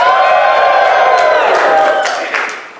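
Convention audience at a Transformers fan event screaming, whooping and cheering together in one sustained burst of crowd noise, loud and close, fading slightly near the end.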